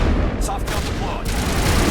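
Gunfire from a shotgun in the Mass Effect 1 video game, a dense, continuous burst of blasts close and loud for about two seconds, with no clear gaps between shots.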